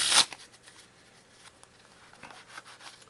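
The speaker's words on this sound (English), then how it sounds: "They shuffle nicely." A deck of cards is riffled in one sharp, fast burst, followed by soft sliding and faint rustles as the cards settle.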